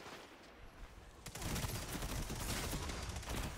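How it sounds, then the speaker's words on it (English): Rapid SMG bursts crackle in an online shooter, faint at first then erupting into dense, fast automatic fire that continues steadily to the end, with no talking. "that SMG was killing me from a mile away"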